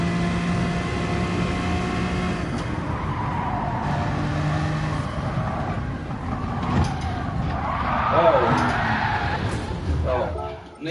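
A race car in Gran Turismo 4 roars with a steady, loud engine drone and tonal revving, then tires screech and squeal near the end as the car nearly rolls over.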